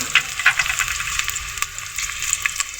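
Chopped onion frying in hot soybean oil in a pot, for a potato bhaji, gives a close, continuous sizzle with small crackles and soft bursts, moderately loud and free of talk.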